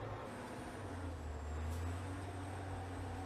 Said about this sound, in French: La chargeuse, c'est une machine qui charge les bennes, les DT.